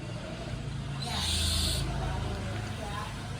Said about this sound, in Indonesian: Salah satunya ini nih, burung hantu.